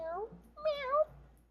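A cat meows up close: a short call, then a longer, louder rising-and-falling meow, with a low voice murmuring in between.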